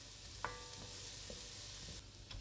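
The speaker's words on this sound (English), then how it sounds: "Gotta love that sizzle whenever onions hit a pan." A constant hiss of onions and garlic sizzling in a hot pan, with a faint utensil tap early on, no voices.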